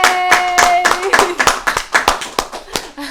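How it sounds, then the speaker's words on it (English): A group claps in a quick, uneven burst of sharp hand claps close by, mixed with a voice speaking and some tonal sound at the start before the clapping takes over. "Clap, everybody."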